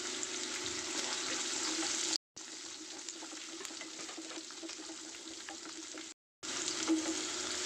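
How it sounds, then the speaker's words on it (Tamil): Onions sauté in a pan with a little salt, a faint, even sizzle with light stirring. It is cut by two short breaks of silence and has no voices. "ஆனியன் லைட்டாக வதங்கிடுச்சு."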